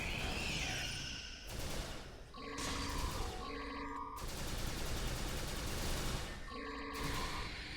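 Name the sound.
gunfire in the video game Star Trek Online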